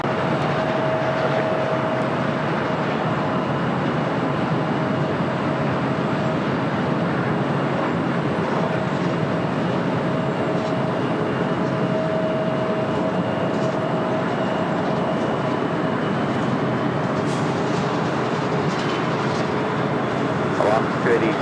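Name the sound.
airliner taking off from runway 25 right at LAX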